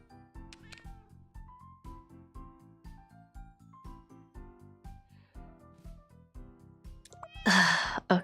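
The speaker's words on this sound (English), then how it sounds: "cat." A cat meows repeatedly in the puzzle game Cats Organized Neatly, the cries riding over steady tinkling background music before a louder, breathy burst near the end.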